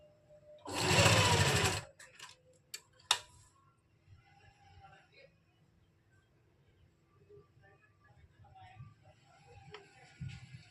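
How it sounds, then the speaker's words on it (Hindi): A sewing machine runs a brief burst of stitching on folded fabric, sewing a loose basting seam on a lined kameez, loud and close for about a second, then quiet handling noises follow. "जो हमारा ये फैब्रिक है इसको हम फोल्ड करते हुए पूरे में सिलाई लगा देंगे"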